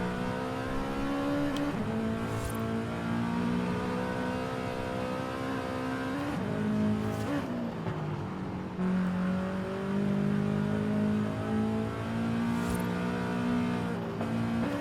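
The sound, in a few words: Toyota GR86 car engine revving in video game Forza Horizon 5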